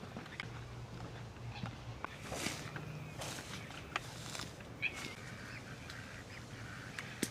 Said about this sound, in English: It looks like there are geese down there.